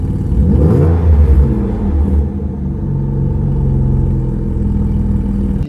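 A Jaguar 3.0 V6 swapped into an NB Miata revs with its valve closed, a loud, deep engine note that climbs and settles into a steady rumbling drone, close by with no talking.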